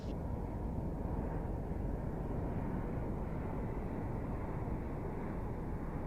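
A quiet electric vertical takeoff and landing plane flies past as a broad, even rushing hum, with no distinct engine roar, steady and moderately faint throughout.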